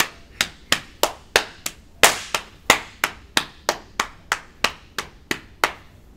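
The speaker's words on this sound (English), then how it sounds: "That was a weak ass clap." Sharp single hand claps repeat at a steady, quick rhythm, about fifteen crisp smacks in a row, close by and otherwise quiet.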